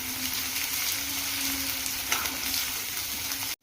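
Ginger, garlic and crushed chilies fry in hot oil, giving a steady, close, even sizzle that carries on without a break for several seconds and stops abruptly at the end.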